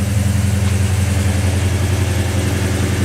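An old truck engine idles steadily and close by, a loud, even, low rumble with a constant rough pulse throughout and no voices.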